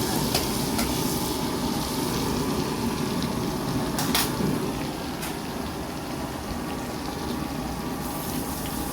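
Butter frying in a pan, a steady close sizzle with light scraping and stirring clicks throughout, no voices.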